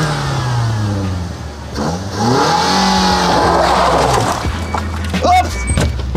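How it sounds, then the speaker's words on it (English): A fake Lamborghini replica car's engine revs loudly while driving, rising and falling in pitch from close inside the cabin, with wind and road noise underneath. "So, right now, we are riding a fake Lamborghini."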